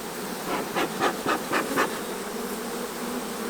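Angry bees buzz around a long hive late in the evening, a steady swarm drone with several louder pulses as individual bees pass close, no voices.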